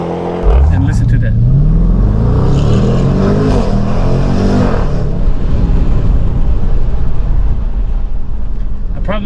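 A Jaguar F-Pace SVR 1988 LeMans Edition accelerates hard, its engine note sweeping up through the revs into a loud, sustained roar heard from inside the cabin.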